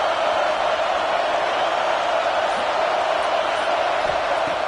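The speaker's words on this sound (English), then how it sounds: "Listen to the crowd energy here in the early going" Stadium crowd at a Texas A&M versus LSU college football game keeps up a broad, steady roar of noise, loud but diffuse and distant, with no single cheer standing out.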